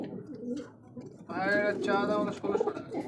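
Fancy pigeons scuffling in a coop, giving deep throaty coos in bursts over a few seconds, close by and fairly loud, with someone talking at the start.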